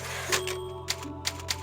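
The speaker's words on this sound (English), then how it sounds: "just like all the other Resident Evils, you save using a typewriter" Typewriter save sound from the video game Resident Evil 4: a few sharp mechanical clacks and a carriage slide, spaced irregularly over a steady background hum.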